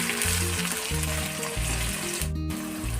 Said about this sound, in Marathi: इथे मी दोन मोठे कांदे बारीक असे चिरून घेतलेले आहेत हे टाकून घेऊया